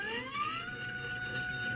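A stepper motor whines at high speed, its pitch sliding upward and then holding a steady, piercing tone, close by with no talking.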